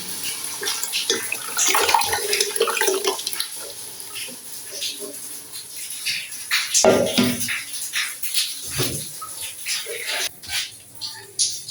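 Yakhni broth poured into a pot of fried masala for yakhni pulao, a splashing, gurgling pour with bursts of sizzle, heard beneath a woman's ongoing speech in a home kitchen.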